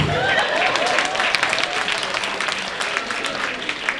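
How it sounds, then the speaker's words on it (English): Loud, dense applause from an audience fills the whole stretch, steady and continuous with sharp clap transients throughout, close and enveloping with no talking over it. "Y'all can clap that up."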